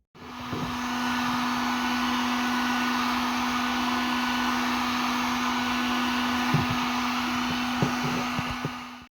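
A heat tool warms an MTX-75 transmission input shaft bearing, giving a steady, loud blower whir with a constant hum that runs unbroken for about nine seconds, joined by a few faint knocks.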